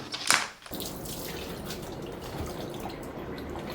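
A Parkside PETPK 400 A1 submersible pump moves clear water, giving a continuous, even rushing and splashing flow at close range after a short knock at the start, with no talk.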